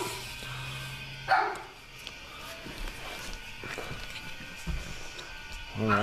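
A few scattered dog barks sound at moderate distance, with shuffling footsteps and low background noise between them.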